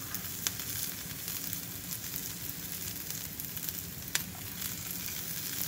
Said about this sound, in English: The onion and the pepper sauteing.